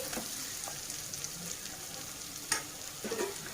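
Drumstick pieces with salt and chili powder cooking in a pan for a mutton curry, a faint steady sizzle with occasional soft stirring clinks and scrapes, close but quiet.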